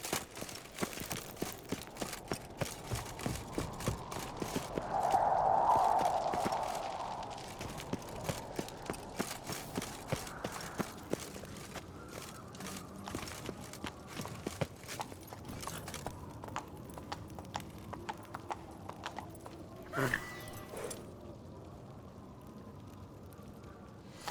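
Horse hooves clip-clop in a steady, brisk rhythm throughout, moderately close, as the horse trots along in The Witcher 3, with a brief swell of ambient noise partway through.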